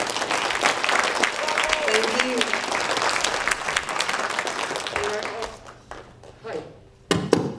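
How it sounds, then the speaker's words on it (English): An audience at a post-show Q&A for the opera The Butterfly Lovers claps steadily for about five seconds, with a few voices underneath, before the applause thins and dies away, followed by a sharp thump. "So can we give them a round of applause again?"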